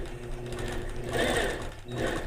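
Sewing machine running continuously while free motion quilting, a close, steady mechanical whir with rapid stitching rhythm.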